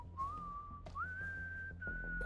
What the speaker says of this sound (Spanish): ¡Basta de silbar!